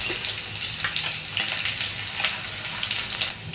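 Chopped garlic and ginger frying in a pan for Bengali-style fried rice from leftover rice, a continuous bright sizzle with light stirring clatter, close and steady.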